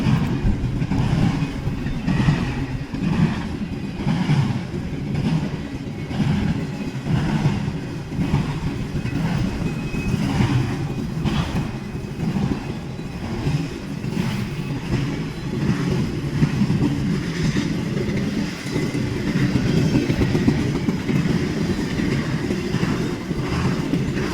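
A train rolls past on railroad tracks in Fostoria, Ohio, a loud continuous rumble with rhythmic wheel clatter and faint squeal, steady and close throughout with no voices.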